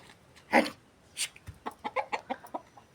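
Chickens cluck close by in a quick series of short, sharp notes after catching a frog, with a louder squawk near the start.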